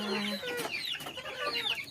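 Chickens on a rural Philippine farm cluck at dusk, several close birds giving short rising and falling calls over a couple of seconds, fairly faint and without talk.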